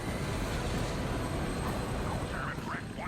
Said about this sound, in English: Stand clear. The A-Train is now departing.